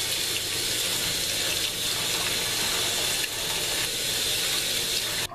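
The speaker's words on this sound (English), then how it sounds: "turn on the water" Tap water runs steadily and loudly into a sink while parsley is rinsed, a constant splashing hiss from start to finish.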